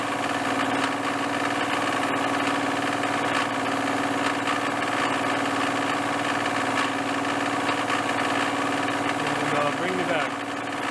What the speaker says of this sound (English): Pre-insert carbide milling setup on this.